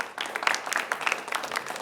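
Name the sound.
audience applause for quiz students from Clark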